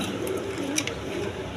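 Indian Bombay pigeons coo at a farm, a low, soft, continuous murmur over steady background noise.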